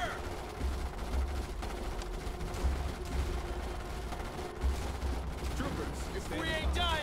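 Troopers firing guns in Starship Troopers: Terran Command, a steady layer of rapid, repeated gunfire running throughout with regular low thumps, some game voices and alien chatter mixed in toward the end.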